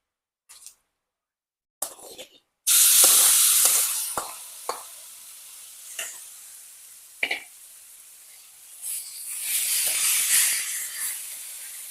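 Vegetables for a chutney (green chillies, tomato, brinjal) hit hot oil in a pan with a sudden loud hiss, then settle into continuous sizzling and steam with a few stirring clinks, swelling again near the end.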